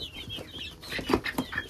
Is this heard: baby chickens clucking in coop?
yes